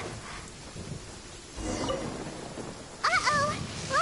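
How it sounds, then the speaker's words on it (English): A lightning storm in Genshin Impact rumbles with low thunder over a steady wash of rain, and a voice speaks briefly near the end over the storm. "Uh-oh! Lightning storm! Ah, just our luck."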